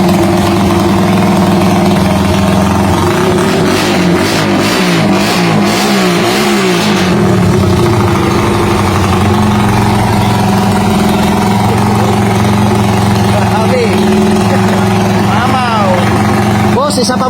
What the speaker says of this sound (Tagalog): Bumungad na yung makina natin